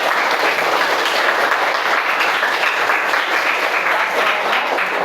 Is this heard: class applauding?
yes